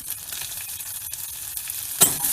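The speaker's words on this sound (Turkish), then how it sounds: "Gördüğünüz gibi yağın sesi çıkmaya başladı." Oil sizzles steadily in a hot frying pan with tomato paste and garlic, a soft, even crackle, ending in a brief clink near the end.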